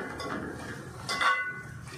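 A lid set onto a pot of simmering prawn curry gives a single bright metallic clink near the middle, over a low, steady kitchen background.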